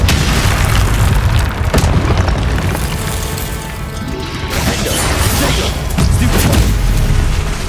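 Loud booming blasts and crashing debris from the Confringo fire spell in Hogwarts Legacy, heavy rumbling explosions rolling through the whole stretch of combat.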